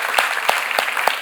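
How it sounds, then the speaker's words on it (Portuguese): Congregation clapping in rhythm during a Portuguese-language church service, with four evenly spaced loud claps over a wash of softer applause. "Glorifica ao Senhor com suas palmas aí, aleluia."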